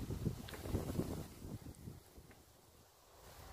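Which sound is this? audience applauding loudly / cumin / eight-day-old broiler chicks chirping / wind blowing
wind blowing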